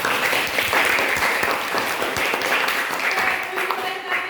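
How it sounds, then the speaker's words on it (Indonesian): Students in a classroom clapping together, a busy, fairly loud burst of many hands with voices mixed in underneath. "Dan tepuk tangan dulu untuk semuanya."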